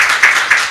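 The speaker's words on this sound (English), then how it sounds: "Another round of applause from another table there." Brief bursts of audience clapping at a conference opening ceremony, a few soft pulses of hand claps, fairly close and short.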